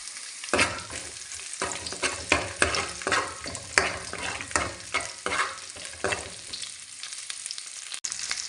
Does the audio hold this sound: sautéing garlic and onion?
yes